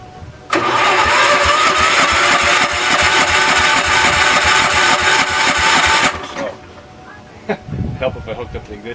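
A rebuilt small engine from a 1974 Ariens S16 tractor cranks hard and steadily on a test bench for several seconds, loud and close, then stops, leaving faint clatter and a brief thump.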